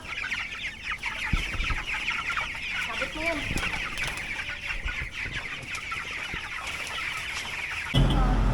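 Hungry 19-day-old broiler chickens cluck busily at feeding time, many birds close by in a dense continuous chorus of overlapping clucks, with a few faint bumps and a louder thud near the end.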